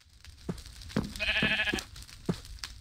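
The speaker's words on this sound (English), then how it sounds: "I can hear sheep." Sheep bleat in the video game Minecraft, one clear wavering bleat in the middle framed by a few short clicks and thumps, fairly close and alone without talk.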